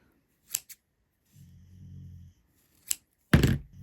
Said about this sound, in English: just cut all your loops.